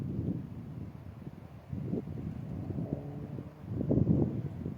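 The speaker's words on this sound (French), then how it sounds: "Là, le vent il souffle et le pod il sonne pas." Low, uneven wind rumbles and buffets against the microphone, swelling in gusts, with faint rustling in the background.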